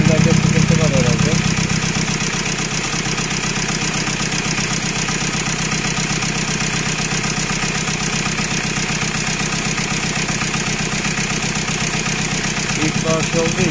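The 2.2 engine of a Ford Transit Custom idles steadily, close by, with a continuous even rumble and a faint rhythmic knock throughout.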